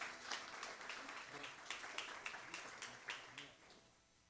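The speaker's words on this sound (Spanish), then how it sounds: "Dale ese fuerte aplauso al Señor, casa de Dios." Church congregation applauding the Lord during a Sunday service, a steady, faint wash of claps that slowly dies away toward the end.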